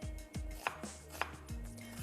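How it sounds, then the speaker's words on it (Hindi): A knife roughly chops onion and garlic on a cutting board in quick, uneven strokes, close and crisp, with no voices. "तो आप प्याज और लहसुन को रफली चॉप कर लें।"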